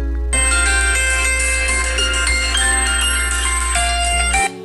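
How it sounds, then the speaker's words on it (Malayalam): An Android phone set to silent rings loudly when triggered remotely through Google Device Manager's Play Sound, a steady electronic ringtone with bright repeating tones that plays for about four seconds and then stops. "ഇതുപോലെ നമ്മുടെ സൈലൻ്റായി കിടക്കുന്ന മൊബൈൽ റിങ് ചെയ്യിക്കാൻ നമുക്ക് സാധിക്കും."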